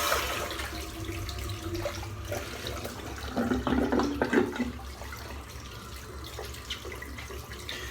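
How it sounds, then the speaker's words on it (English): Tap water running into a sink while soap is rinsed from shaving gear, a steady wash of flow with a brief louder splash midway, close and alone. "rinse that soap out."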